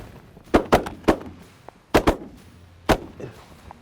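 Shotguns fire at ducks during a freeze-up hunt in the Dakotas, with about seven sharp reports in quick, uneven bursts of two or three. The shots come from several guns at once and ring out loud and close over wind noise.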